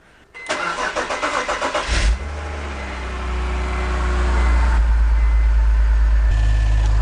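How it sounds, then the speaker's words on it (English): A BMW E46 330i/325i with a freshly rebuilt ZF 5HP19 automatic transmission cranks briefly, then fires up and settles into a steady, loud, close idle. "So now we gotta fire up the engine for the first time."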